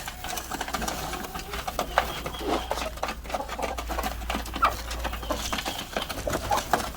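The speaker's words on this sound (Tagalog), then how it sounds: "yung mga black australorp natin dito. Yan yung ating rooster." Black Australorp chickens and their rooster on a farm, giving soft clucks and calls over a steady mechanical hum, with faint bird chirps scattered throughout.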